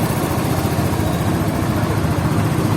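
A brand-new Motorstar Easyride 150 FI V2 motorcycle with zero kilometres, its engine running at a steady idle, a loud, continuous low rumble close by with no voices.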